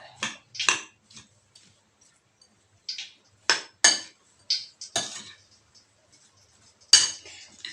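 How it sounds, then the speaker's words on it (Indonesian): A metal spoon clinks against a bowl in scattered, uneven taps while stirring, with quiet pauses between the strokes. "Kita aduk-aduk."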